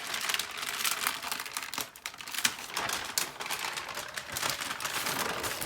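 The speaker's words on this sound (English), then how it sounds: "So I'm going to go ahead and gently remove my parchment paper." Parchment paper peeled slowly off melted crayon gives a continuous close crinkling and crackling, steady throughout with no talk.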